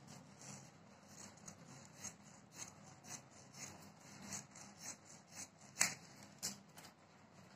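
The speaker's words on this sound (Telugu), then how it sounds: "డ్రాయింగ్ చేసుకున్న విధంగా షేప్ పట్టిన కట్ చేసుకుందామండి." Scissors cut along a drawn outline in blouse fabric, a series of soft rasping snips in an uneven rhythm, close and fairly quiet, with no voices.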